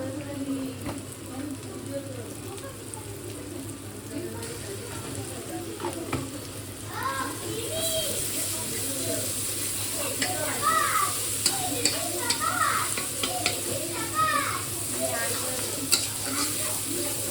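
Garlic paste frying in a pan gives a loud, continuous crackling sizzle with bursts of spattering, close up, while a person's voice murmurs faintly in the background.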